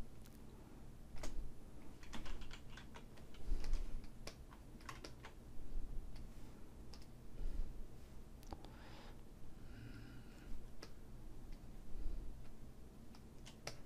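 Computer keyboard keys clack during 3D character modeling work: soft, irregular clicks in short bursts with pauses between, fairly faint over a quiet room hum, no talking.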